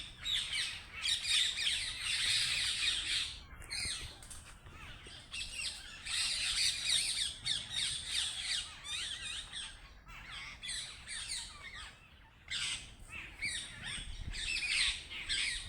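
A busy flock of pigeons and other birds squawks and chirps continuously, the dense chatter filling the air with no voices.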